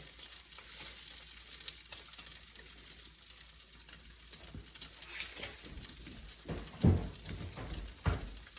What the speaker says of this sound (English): You can hear that sizzling in there good.